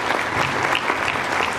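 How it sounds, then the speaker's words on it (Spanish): Wedding guests break into a burst of steady, dense applause filling the room, loud and close, with no speech over it. "Un aplauso, por favor, un aplauso."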